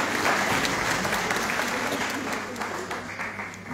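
Audience applause fills the room at an organ and bagpipe concert, a dense, steady wash of many hands clapping close by, holding loud throughout and easing slightly toward the end.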